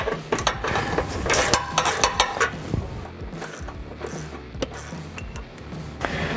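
A ratchet works loose two 13 mm bolts on the frame rail during an MBRP cat-back exhaust install on a Jeep Gladiator JT, giving close, quick bursts of clicking with metallic rattles and scraping between strokes.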